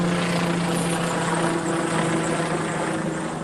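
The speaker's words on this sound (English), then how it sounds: "That's a helicopter." A helicopter runs steadily overhead, a loud continuous rotor and engine drone with a low hum holding even for the whole stretch, no talk over it.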